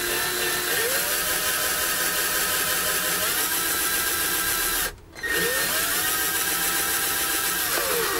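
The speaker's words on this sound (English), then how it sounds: "I'm going to drill. I'm not going to drill all the way. I'm going to take it really slow." A power drill bores slowly into material for a homemade solar oven, its whine rising and falling steadily, with one brief stop midway before the motor starts again.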